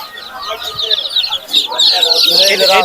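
Goslings and poultry chicks at a village market in Tangail, Bangladesh, cheep and peep in a dense, continuous high-pitched chorus close by, with a voice briefly heard among them.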